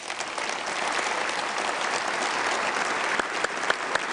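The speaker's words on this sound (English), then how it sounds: "Let's give them a round of applause." A large audience at a Department of Defense event applauds continuously, dense sustained clapping with a few sharper individual claps standing out near the end.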